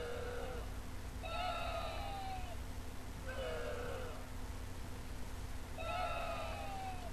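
A small iCarly toy from McDonald's plays short, quiet electronic chirping sound effects in three repeated bursts over a steady low hum.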